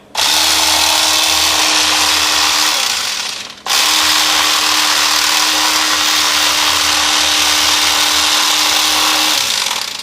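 Electric knife filleting fish, a loud steady motor whine with a constant hum, running in two long bursts separated by a brief stop, close and alone with no talk.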